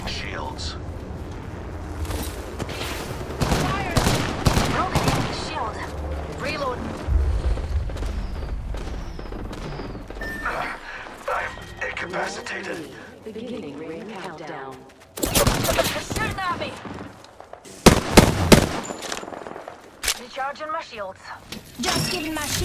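Gunfire rattles through a match of Apex Legends on World's Edge or Kings Canyon in repeated loud bursts and booming impacts, mixed with other battle noise and character voice lines.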